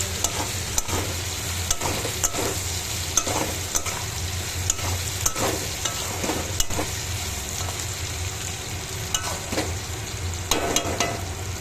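Potato, cauliflower and paneer sizzle loudly in hot spices, with regular scraping and knocking of a spatula as the vegetables are stirred, close and continuous with no talk.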